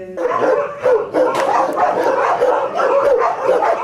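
Mine detection dogs at a training centre barking and yipping continuously, several animals close by with overlapping excited barks and whines, with faint voices in the background.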